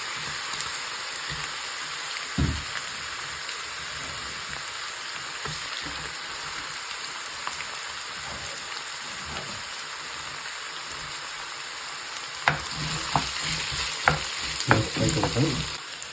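Chopped onion frying in a pan for a Kerala-style mutton curry, a steady soft sizzle with occasional stirring scrapes and clinks, louder near the end.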